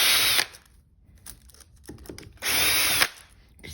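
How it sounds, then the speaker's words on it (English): A power drill backs screws out of soft pine on a fanned-fret baritone guitar build, with two loud, close whirring bursts of about half a second each separated by quiet handling noises. "Take these screws out."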